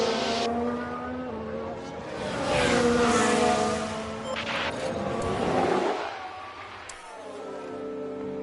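A Formula 1 race car in F1 Manager 2022 at Bahrain fires up and drives, its engine rising and falling in pitch through loud revs and upshifts, then settling to a steadier tone.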